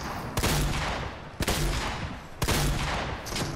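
Enemy gunfire in Fortnite comes as three heavy, evenly spaced blasts about a second apart, each one sharp and loud and trailing into a noisy rumble, with no voices.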